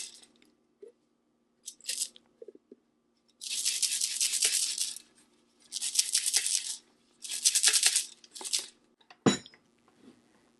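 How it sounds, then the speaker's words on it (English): Oil-coated popcorn kernels being shaken inside a Joulle electric kettle, a few light rattles and then three long bursts of dry hissing rattle, close and loud, ending with a single thump. "so I'll just kind of shake it around. So I'll shake this up to make sure it's all coated with oil"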